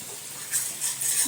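Slit green chillies hit a hot pan of spiced masala and sizzle in short bright bursts over a soft, steady frying hiss. No one speaks.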